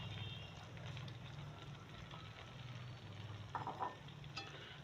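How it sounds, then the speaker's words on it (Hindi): Marinated chicken for white korma fries in a pan with a low, steady sizzle close by and a brief stirring clatter. A voice talks over it. "अब इसको अच्छे से हम 5 से 7 मिनट भुनेंगे।"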